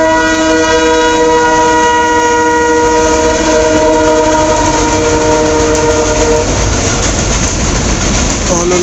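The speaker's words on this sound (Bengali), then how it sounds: "হলহলিয়া ব্রিজের উপর দিয়ে আমরা ট্রেন যাচ্ছে দেখার সৌভাগ্য হয়েছে আমাদের" A train crosses the Holholia railway bridge with a long, loud horn blast sounding through most of the pass. A heavy rumble of wheels and rails builds toward the end, and voices can be heard faintly underneath.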